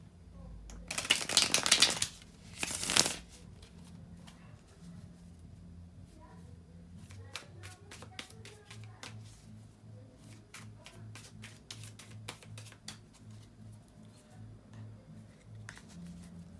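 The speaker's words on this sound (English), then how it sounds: "bear with me a second, guys, to shuffle the tarot cards" Tarot cards are shuffled in two short, loud riffling bursts close to the mic, followed by a long quiet stretch of faint taps and card handling.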